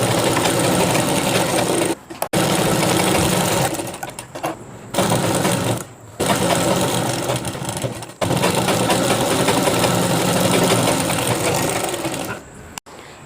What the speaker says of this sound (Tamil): இப்போ நான் தைச்சி கொண்டாந்து காட்டுறேன்.